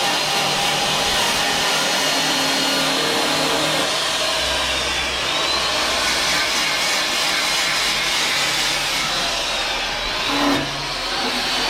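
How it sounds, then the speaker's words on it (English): Continuous loud, hissing whir of grinding and sanding on 1965 Mustang parts, running steadily nearby with a brief shift in pitch near the end. "So the boys doing some grinding and some sanding"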